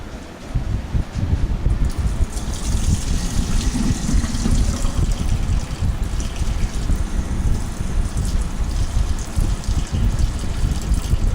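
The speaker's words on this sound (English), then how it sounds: "walk straight over to the sink and try to empty out some of that water" Water poured from a cheesecake baking pan into a kitchen sink, a steady close gush and splatter that starts abruptly and keeps running without pause.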